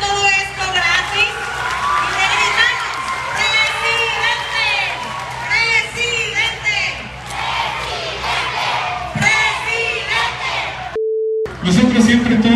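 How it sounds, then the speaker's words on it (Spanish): A large crowd cheers and shouts loudly and steadily for the municipal president at a free public event with pizza and hot dogs, voices overlapping throughout, briefly cut off near the end before resuming. "¿Por qué no le damos un aplauso al presidente por hacer todo esto gratis?"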